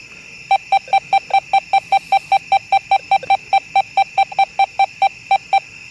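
A metal detector sounds over a nickel: a rapid series of identical short electronic beeps repeats at an even rhythm, about four per second, clear and steady over faint background hiss.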